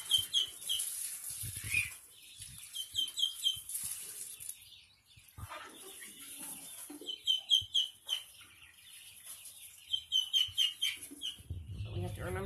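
Chickens cluck and squawk in repeated bursts nearby, with scattered rustling and movement between the calls.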